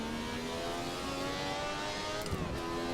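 Ferrari 312T engine in Assetto Corsa revving at high RPM, a steady synthesized-sounding whine with layered harmonics that climbs and then shifts pitch briefly near the end, with no talk over it.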